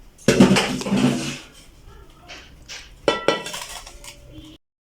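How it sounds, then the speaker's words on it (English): Metal cake pan for a red velvet cake being handled and dusted off in a home kitchen: clattering clanks and scraping metal knocks in two bursts, close and fairly loud, with brief rustling between and no talk. "let me dust off that pan"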